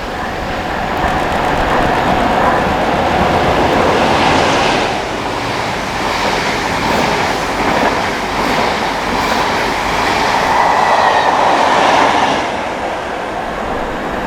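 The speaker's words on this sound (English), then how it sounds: "The approaching train is not scheduled to stop at this station." At night, on a wet platform, a train speeds through a station without stopping, a loud, close rush of wheels and rumbling wagons with faint rhythmic clatter, swelling and easing as the carriages pass.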